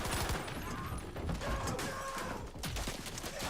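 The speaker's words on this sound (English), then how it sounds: "this part here they're showing you the bullets penetrating walls" Gunfire in Battlefield V with bullets punching through walls: dense, crackling bursts of shots and impacts run steadily throughout, loud and busy, with a faint voice mixed in.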